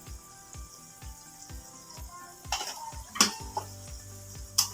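Caramel-coated peanuts frying in a pan, with a soft sizzle under regular tapping and scraping as they are stirred, a few sharper clinks of the utensil against the pan near the end.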